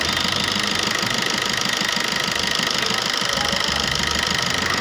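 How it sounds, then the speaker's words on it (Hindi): An engine with a faulty injector idles with heavy, rapid rhythmic knocking, a loud continuous metallic clatter heard up close with no talk over it. "तो देख सकते हैं इसमें एक इंजेक्टर के कारण इसकी इंजन में कितनी बहुत ज़्यादा नॉकिंग आ रही थी।"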